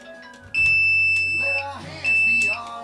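Two high electronic beeps from a wire-tracing tone tester inside a gutted Airstream trailer being rewired, each tone held about half a second over a low steady hum, with voices talking in between.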